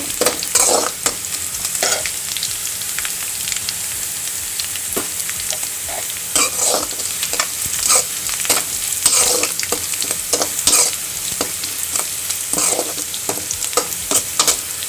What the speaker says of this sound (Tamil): பாருங்கள் வெங்காயம் நல்லா வதங்கி வந்துடுச்சு நல்லா ப்ரௌன் கலர் ஆயிடுச்சு